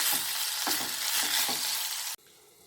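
Keerai greens sauté with onions in a pan, a loud, dense sizzle with rhythmic stirring scrapes that cuts off abruptly near the end, leaving quiet.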